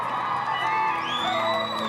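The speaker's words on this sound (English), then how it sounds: "Make some noise for her, make her feel welcome here at the closed show" Audience at a show cheering and whooping, a dense crowd roar with rising whoops and shouts held throughout, loud and close.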